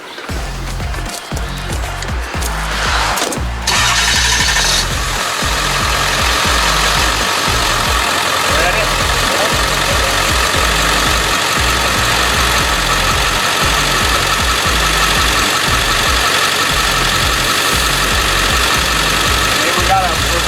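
A Ford F350 truck engine runs steadily and loud, pulling to break the bead of a small ATV tire, with a sharp clank near the start and continuous rumbling throughout.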